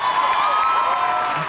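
Audience at Comic Con India cheering and applauding loudly and steadily throughout, a dense wash of crowd noise with no gaps.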